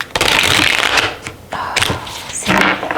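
A deck of tarot cards being shuffled by hand: close, crisp riffling bursts in three quick runs separated by brief pauses.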